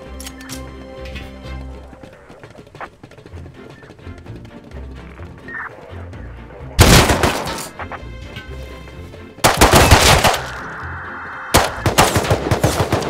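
Loud shotgun blasts with buckshot in the survival game Rust, three big booming shots spaced a few seconds apart over a busy game soundscape with faint background tones.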